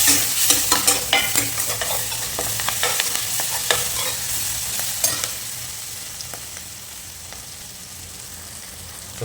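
Curry leaves sizzle loudly in hot oil for chicken gravy while a spoon stirs and scrapes the pan with rhythmic clicks, the crackle easing into a steady frying hiss.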